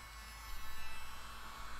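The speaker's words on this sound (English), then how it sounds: "now I'm proud to present to you the mustache vacuum" A small electric grooming gadget played as a mustache vacuum in a comedy skit hums steadily, its buzzing motor close and pulsing gently in level waves, with no talking.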